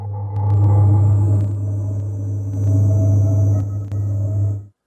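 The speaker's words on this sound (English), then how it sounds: "it's kind of like a lo-fi effect" A low, droning tone from the Superball Kontakt instrument's tape degrade effect, with a muffled, gritty texture, swells and dips over several seconds, sounding worn and lo-fi before abruptly fading out.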